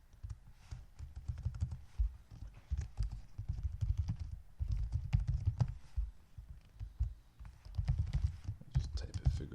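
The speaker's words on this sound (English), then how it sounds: "Just type in figure 1, and figure 1 will plot t comma z." Typing on a computer keyboard, with quick clusters of soft key clicks coming in irregular bursts and short pauses, close and fairly quiet, with faint talk or breathing partly underneath.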